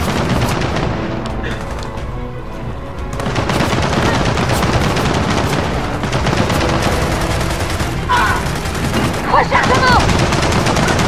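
Loud, sustained machine gun fire from emplaced gun nests in Gears of War 4 rattles almost continuously, with dense rapid bursts and heavy impacts layered together.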